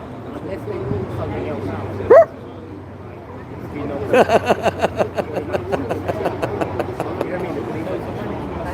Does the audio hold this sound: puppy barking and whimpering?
yes